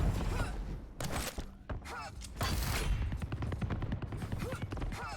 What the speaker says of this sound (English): CNZ showing the power of the heavy machine gun